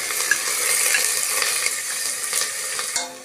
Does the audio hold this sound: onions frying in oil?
yes